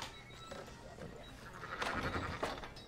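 Sheep bleat in the Red Dead Redemption 2 video game, with a few short nasal calls rising over quiet ranch ambience, fairly close but soft.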